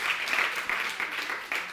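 A church congregation at a Sunday intergenerational service claps together in a steady, dense round of applause lasting under two seconds, fairly close and with no talk over it.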